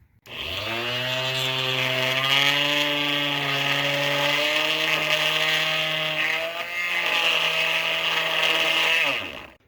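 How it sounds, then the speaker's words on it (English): A RotoZip rotary cutting tool whines steadily at low speed, a sustained harmonic motor drone with a slight pitch shift midway, loud and close, running nearly the whole time. "we're going to try to use a roto zip just on super low speed"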